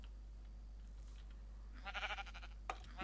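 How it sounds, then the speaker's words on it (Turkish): Sheep bleating in the Minecraft video game, a short burst of game bleats arriving near the end over a steady low background hum, with a brief click right after. "Hey koyun dur."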